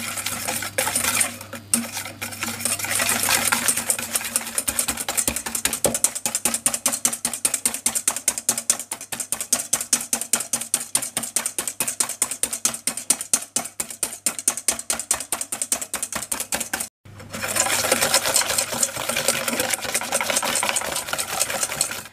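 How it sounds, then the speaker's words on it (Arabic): Electric hand mixer beating eggs with sugar for chocolate cookie brownies, a loud continuous whirring with rapid rattling of beaters against the bowl, briefly cutting out near the end before starting again, with no talking. "ضربوا البيض ديالكم مع السكر حتى يولي الخليط هكايا شغل كريم بيض"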